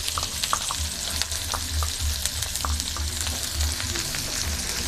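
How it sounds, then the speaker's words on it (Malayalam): Onions sautéing in hot oil for a Kerala onion chammanthi, a steady dense sizzle with occasional crackles and pops, close and loud, continuous throughout with no voices. "നമ്മുടെ സവോള അതിലേക്കിട്ടൊന്ന് വഴറ്റിയെടുക്കാം"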